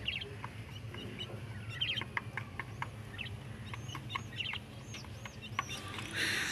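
On a home balcony, a chicken feeding alongside quails gives soft, scattered clucks and chirps, faint and intermittent over a quiet background hum.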